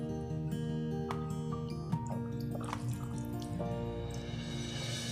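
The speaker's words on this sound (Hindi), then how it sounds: "इसको निचोड़ के हम दही में डाल देंगे।" Water-soaked phulkiyaan, small fried gram-flour dumplings, are squeezed by hand and dropped into yogurt in a home kitchen, giving soft wet drips and squelches that run steadily throughout, with no talk.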